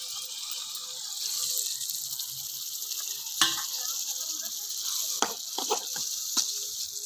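Steady hiss of prawn thokku frying in a pan as a splash of water goes in, with a few sharp clinks and stirring knocks breaking through the continuous sizzle.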